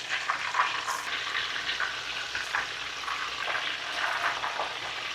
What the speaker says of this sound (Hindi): ये बहुत ही जल्दी फ्राई हो जाते हैं।